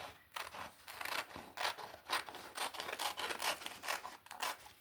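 Scissors snipping through a paper picture being cut out for a collage, a steady run of close, quiet crisp cuts and rustles with no talking.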